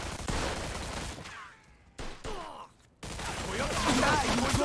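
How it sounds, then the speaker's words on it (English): Enemies fire from above in Mafia 2: Definitive Edition, bursts of gunfire with short quiet gaps and whizzing ricochets, then a heavier sustained volley, with voices faintly mixed in. "They're shooting from up top!"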